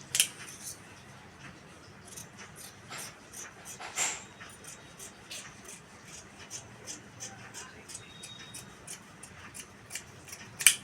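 Scissors cutting fabric for a blouse puff sleeve, a long run of quick crisp snips, some louder than others, in a quiet room.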